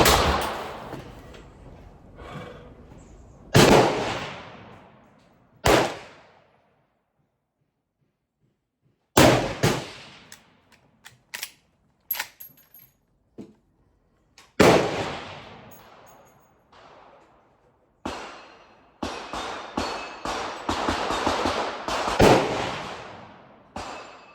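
A Winchester Model 1894 carbine fires .32 Winchester Special rounds outdoors: about five sharp, loud shots spaced several seconds apart, each with a decaying echo, plus smaller clicks and handling noises between them and a denser clatter near the end.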